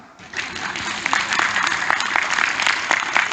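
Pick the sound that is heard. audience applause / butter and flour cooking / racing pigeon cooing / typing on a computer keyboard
audience applause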